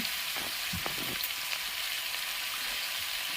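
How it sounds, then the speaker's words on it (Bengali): Potatoes frying in a pan in a home kitchen give a steady, close sizzle, broken early by a few brief clinks or stirring knocks, with no talking. "আলু ভাজাটা বসিয়ে আলু ভাজাটা করে"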